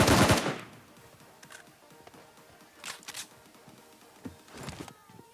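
Automatic gunfire in PUBG at Pochinki: a loud burst opens, then quieter rapid volleys follow at a distance, with faint game ambience between them.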